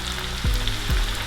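Plantain slices fry in hot oil with a constant close sizzle, broken by two brief louder crackling bursts.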